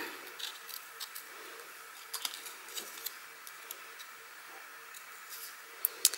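Curved scissors cut around a paper Easter card, giving faint, scattered crisp snips and clicks at an irregular pace, with a couple of sharper snaps near the end and no talking.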